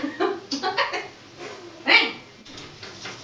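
A puppy gives a quick run of short, high yips and barks, then one more bark after a pause, close by in a quiet room.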